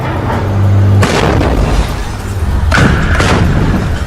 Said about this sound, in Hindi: उसके रॉकेट दागते ही एक और कान फाड़ देने वाला धमाका हुआ।